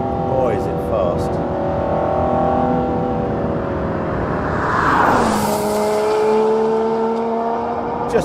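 An Aston Martin One-77 EVO race car with a six-speed transaxle gearbox accelerating on a damp track, its engine note rising and shifting through gears, loud and close, with a pitch sweep as it passes.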